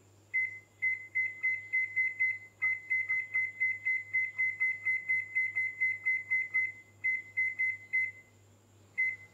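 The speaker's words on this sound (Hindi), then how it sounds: "तो टाइम सेलेक्ट करने के लिए हम टाइमर को घुमाएंगे।" A microwave oven's timer dial is turned, giving a rapid, even series of short electronic beeps with a few brief pauses, over a faint steady hum.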